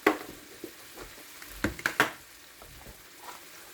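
Onion added to softened mushrooms in a pan for chicken marsala: a quiet, faint sizzle runs under sharp scraping stirs and clatters, with several louder knocks clustered in the middle of the clip.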